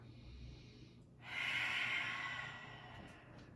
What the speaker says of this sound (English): Make sure you can breathe big, spacious breaths